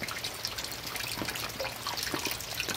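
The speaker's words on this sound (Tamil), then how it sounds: "பாருங்க, உள்ள தண்ணி உழுகுது பாருங்க," Faint continuous trickle of water dropping through a filter into a rainwater harvesting pit, a gentle splashing stream heard close and alone.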